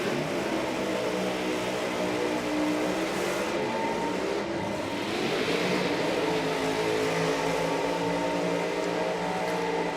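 A nitro drag racing Chevy Camaro doing burnouts at a drag strip, a loud continuous engine roar with tyre noise sustained for the whole stretch, thick and steady with no speech over it.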